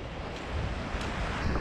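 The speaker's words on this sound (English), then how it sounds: "it's a bit windy today" Strong gusty wind at the beach buffets the microphone with a roaring rush, blended with surf-like noise, continuous and loud.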